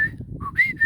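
Short whistled notes, a high steady tone, a brief lower blip, then a rising whistle, imitating phone notification alerts like someone whistling for a dog, clear and alone.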